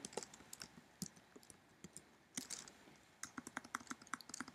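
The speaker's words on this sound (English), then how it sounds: "let's start typing out the code" Keys clatter on a computer keyboard as code is typed in Xcode 4.3, quiet close clicks in quick irregular bursts with short pauses between.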